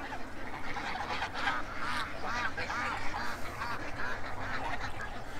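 Ducks quack in a grassy yard, a busy overlapping chorus of nasal calls, fairly close and continuous throughout.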